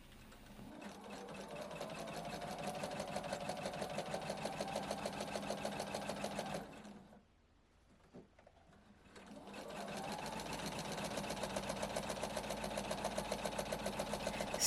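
A sewing machine stitches quilt rows together in a fast, steady, close-up whir. It stops briefly midway, then starts again and runs on.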